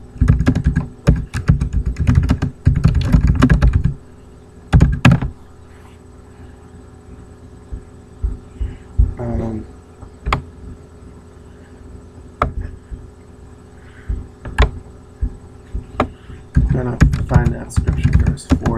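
Computer keyboard typing while looking up a scripture verse, bursts of quick keystrokes in clusters with pauses between, near and moderately loud, with a voice talking at times.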